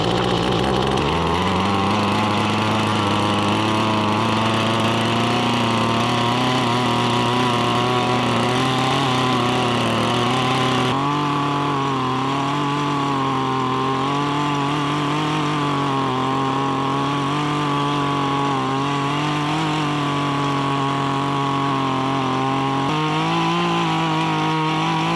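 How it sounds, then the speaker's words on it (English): Small garden tiller churning dirt while preparing a deer mineral lick plot: a steady, loud two-stroke engine drone running continuously, its pitch rising at start-up and shifting slightly as the tines dig. "I have since borrowed one of these little tillers, and they work really, really well"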